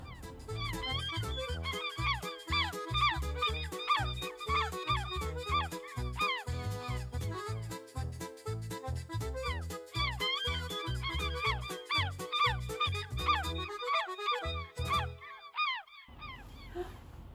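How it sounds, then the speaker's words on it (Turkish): Rapid, repeated squawking seagull calls over a steady rhythmic beat, loud and close, ending with a brief pause and a final burst. "Beş tane martı varmış. Martılar Nasıl ses çıkarıyorlar?"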